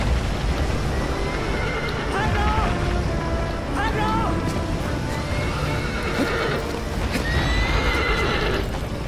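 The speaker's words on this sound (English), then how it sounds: "Come here horse, quick." Horse in the Shadow of the Colossus video game, whinnying several times over steady clip-clop hoofbeats of galloping, loud and continuous, with a person talking over it.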